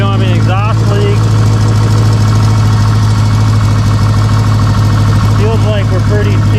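Newly built BBR 700 car engine idling loudly right after its first start, a steady low rumble with constant vibration throughout, while people talk over it.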